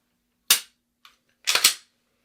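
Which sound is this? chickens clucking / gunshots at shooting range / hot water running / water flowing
gunshots at shooting range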